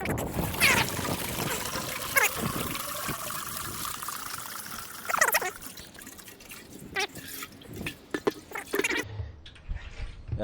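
Apple cider vinegar drains from a Kawasaki KZ440 motorcycle gas tank with a continuous trickling, splashing flow, joined by irregular clinks and drips in the later part.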